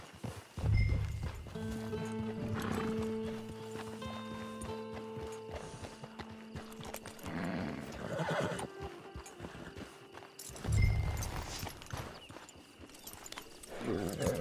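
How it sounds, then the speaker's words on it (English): A horse in the video game Red Dead Online whinnies and snorts amid clip-clopping hooves and creaking tack, with a voice speaking briefly in the background. "It's your horse."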